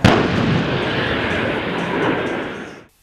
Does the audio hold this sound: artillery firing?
yes